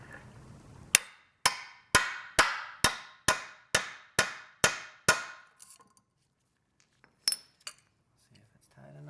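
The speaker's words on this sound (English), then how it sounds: "I'm going to use a 7/16 socket to go over the top of this, and a hammer." A hammer strikes a 7/16 socket set over a sliding glass door lock about nine times in an even rhythm. Each blow is a sharp metallic clank that rings and decays, followed by a few fainter clinks and handling taps.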